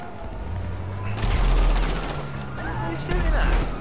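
Rapid bursts of gunfire in the GTA V video game over a steady low rumble, loud and dense, swelling around the middle and again near the end.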